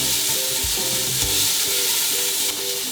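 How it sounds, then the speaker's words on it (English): Chopped onions sizzle steadily in a hot pan for tomato soup, with a constant frying hiss and repeated scraping strokes of stirring close up, no talking. "I'm going to put the onions into my pan."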